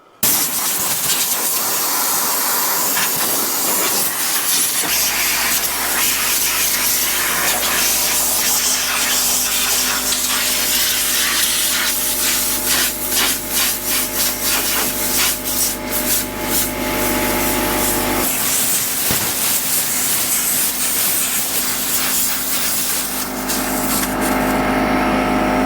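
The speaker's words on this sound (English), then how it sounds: "my poor little 6-gallon compressor over here is about to choke" A hose from a 6-gallon air compressor blows dust off a 574 tractor, giving a loud, continuous hiss that holds for the whole stretch with a steady motor drone beneath for much of it.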